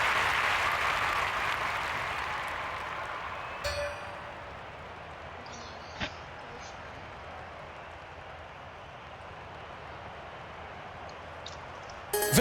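Stadium crowd applauding at an Olympic triple jump event, a broad wash of clapping that swells early then settles into a sustained distant roar with a few sharp pings.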